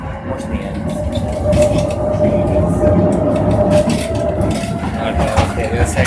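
A Tatra T5C5 tram runs on line 59 with a loud, steady rolling rumble and clatter, a sustained whine riding over the wheel noise throughout.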